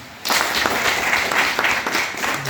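A lower secondary class applauds student presenters after their project presentation; clapping starts abruptly after a quiet moment and continues as a steady, dense round of many hands close by.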